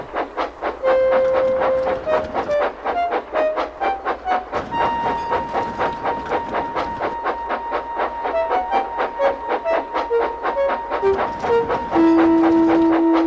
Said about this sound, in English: Rosie arrived with some stone trucks ready for the morning goods train.